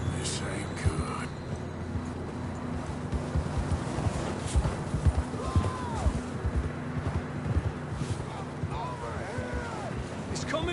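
Horses from Red Dead Redemption 2 moving over rough ground, a steady jumble of hoof thuds under a low rumbling background, with distant voices and occasional calls mixed in.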